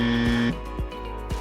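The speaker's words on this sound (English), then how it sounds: "pressing that buzzer the first" A quiz buzzer pressed by a team in a school quiz contest sounds one loud sustained electronic tone that cuts off abruptly, followed by faint low thumps.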